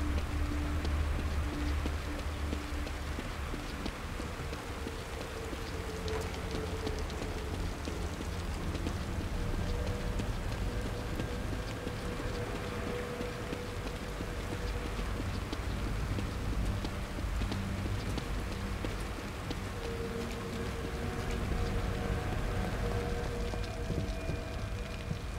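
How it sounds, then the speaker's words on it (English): Steady rain falls in the horror video game The Evil Within, a soft, continuous patter and hiss with a low ambient drone underneath, fairly quiet throughout. "Rain is gonna wash away any evidence."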